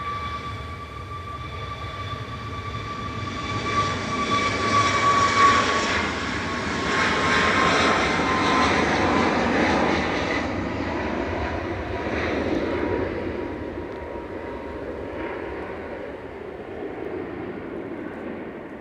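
A Boeing 737-300 jet at Manchester Airport gives a steady, loud engine roar with a thin whine on top. The sound swells through the middle and slowly fades, heard alone without voices.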